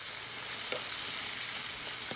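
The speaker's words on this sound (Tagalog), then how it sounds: "we have to stir fry the garlic that turn brown" Chopped fresh garlic stir frying in oil, a dense, even sizzle close up with a few faint stirring clicks underneath.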